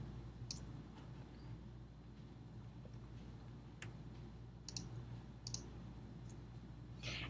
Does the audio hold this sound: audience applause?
no